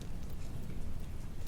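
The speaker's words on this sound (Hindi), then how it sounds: "बाहर बारिश हो रही है," Rain falling outside, heard as a soft, steady, continuous hiss that stays even throughout with no voices over it.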